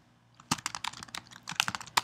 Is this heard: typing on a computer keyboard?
yes